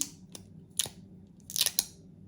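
A sticker label is peeled back from cosmetics packaging, giving a few quiet, crisp crackling tears in short bursts in an otherwise still room.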